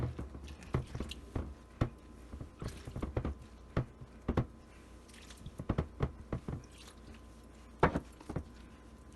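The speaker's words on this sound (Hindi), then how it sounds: "अब हम इसको गूंदेंगे।" Wheat flour dough for aloo paratha being kneaded by hand, made from ordinary roti flour and worked fairly stiff: a close series of soft, wet squishes and pats in an irregular rhythm, with no talking.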